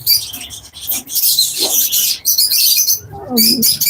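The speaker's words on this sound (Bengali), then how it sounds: "এখানে ডিম বাচ্চা করা লাভবার্ড পাখি আছে" Breeding lovebirds of a local farm strain chirp in a busy aviary, rapid high twittering filling the clip with a brief lower call near the end.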